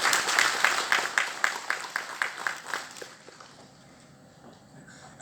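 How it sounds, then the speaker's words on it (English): Scattered applause from a small audience for everyone on stage at a live event: a few seconds of clapping that thins out and fades, leaving quiet room tone. "So a huge round of applause for everybody on here."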